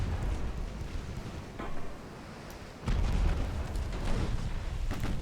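Aft torpedo fired in a naval war game set in a British campaign, heard as a rumbling launch followed by a heavy explosive boom that swells midway and lingers as a loud, sustained roar.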